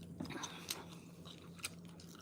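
Someone bites and chews crispy, crackling food skin close up, with a few sharp crunches standing out over soft mastication, quiet and without talk.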